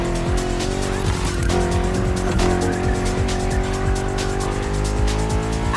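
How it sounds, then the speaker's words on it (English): BMW M CS competition-sport cars race along open roads with traffic in The Crew Motorfest, engines droning loudly and continuously with sustained harmonic whine and tire squeal layered over the roar. "putting 3 BMW MCS to the test over very long distances, and it's your job to drive them one after the other"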